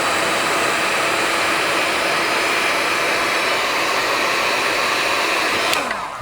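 A heat gun blowing hot air onto heat shrink tubing over a wire, a steady, loud broadband whoosh that runs alone throughout and tapers off as it switches off near the end.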